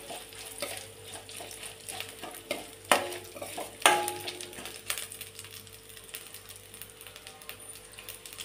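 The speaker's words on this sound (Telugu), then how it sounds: "దీంట్లో 2 ఎండుమిర్చి, కొంచెం కరివేపాకు కొంచెం ఫ్రై చేసుకోవాలి, లైట్గా ఫ్రై చేసుకోవాలి" Two dried red chillies and curry leaves fry lightly in a pan, a soft steady sizzle broken by a spoon's sharp metallic taps and scrapes, close by with no talking.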